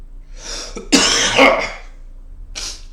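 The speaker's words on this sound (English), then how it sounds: "just cough out, which is what I want to do right now" A single forceful cough bursts out, followed by a rough, lingering exhale and a short breathy sound at the end, close and loud.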